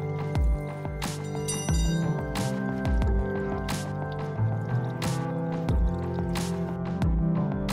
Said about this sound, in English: Be ready to have something below whenever all the coolant comes running out of it